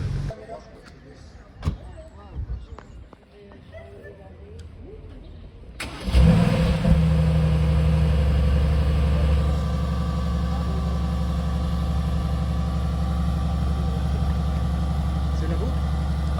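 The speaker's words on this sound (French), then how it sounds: "c'est sympa ça, le petit start-up d'AMG GT" A Mercedes-AMG GT engine cranks and fires with a sharp bark, then settles into a loud, steady idle rumble nearby, after quieter street ambience with faint talk.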